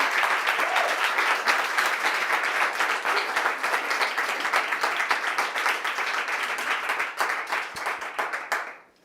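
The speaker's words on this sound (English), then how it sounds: "A big applause" An audience at a TEDx talk in Munich gives a speaker a long, full round of applause, dense steady clapping that fills the hall and fades out abruptly at the end.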